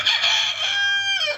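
A loose rooster crows once, loud and close, a single strained cock-a-doodle-doo that rises and trails off over about a second and a half.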